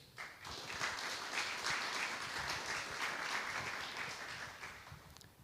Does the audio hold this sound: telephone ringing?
no